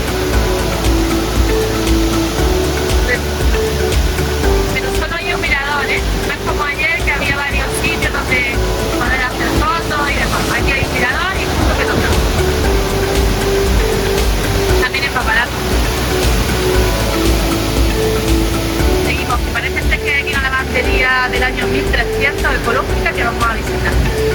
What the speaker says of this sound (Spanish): Aquí cae con fuerza el agua